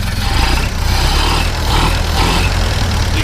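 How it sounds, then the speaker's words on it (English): A 1930 Ford Model A Phaeton's engine runs close by with a loud, steady low rumble, rising slightly as it is revved a little, with no talking over it. "Go ahead and rev it up just a little bit."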